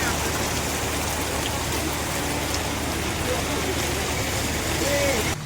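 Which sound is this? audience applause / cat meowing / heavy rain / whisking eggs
heavy rain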